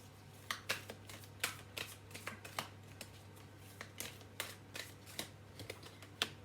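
Energy oracle cards being shuffled by hand, producing soft, quick, irregular flicks and riffles, quiet and close, with no voices.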